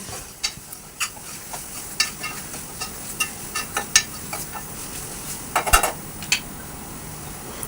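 Onions and masala fry for an Andhra-style chicken curry, a low sizzle under a rhythmic run of metal spoon clinks and scrapes against the pot, close and with no talking.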